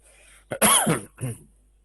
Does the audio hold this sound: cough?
yes